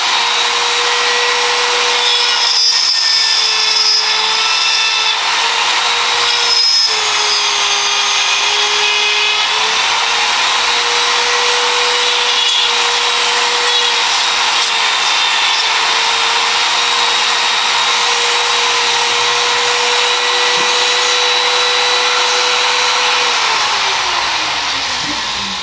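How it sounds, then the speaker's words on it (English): A Dremel rotary tool cuts a wire tunnel into a box, giving a continuous high-pitched whine that holds steady for about 25 seconds with slight pitch dips, then drops in speed near the end. "We need to clear a tunnel here with a Dremel."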